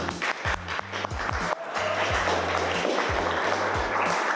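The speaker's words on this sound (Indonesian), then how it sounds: "Beri tepuk tangan untuk kita semua." Students in a classroom clap together for a stretch, with a steady, dense patter that fills the room over a rhythmic low pulse that runs underneath throughout.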